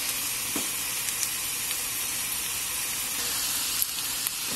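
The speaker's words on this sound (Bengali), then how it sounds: "আমি আরও কিছুটা সরিষার তেল অ্যাড করে দিচ্ছি" Mustard oil poured into a frying pan with meat spiced with salt and turmeric, giving a steady, loud sizzle with a few faint clicks and stirring sounds, no talk.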